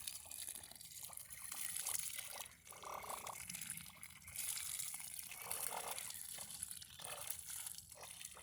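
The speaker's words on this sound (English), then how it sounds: "we're gonna water this in good" Water poured from a jug onto the base of a freshly planted avocado tree outdoors, a steady splashing trickle that runs for several seconds at moderate volume with no talking.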